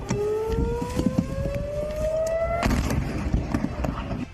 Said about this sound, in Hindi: सुबह के सन्नाटे को चीरते हुए यमन से दागी गई बैलिस्टिक मिसाइल की वजह से इजराइल के सेंट्रल में सायरन बजने लगे।